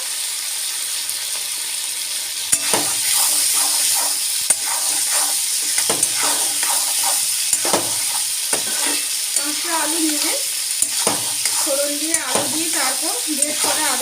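Boiled white potatoes and grated ginger fry in a pan while a spoon stirs them, a steady close sizzle broken by repeated scraping strokes and clacks that run throughout.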